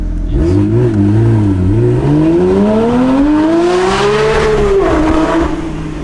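A GT3 car engine revs loudly and continuously, its pitch sweeping down, then climbing steadily to a high peak before easing back, heard close and alone.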